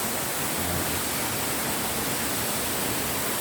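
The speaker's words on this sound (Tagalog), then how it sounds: "Ang ganda ng falls." A forest waterfall in Baler, Aurora, gives off a steady, even rushing hiss with no breaks, moderately distant and unaccompanied by voices.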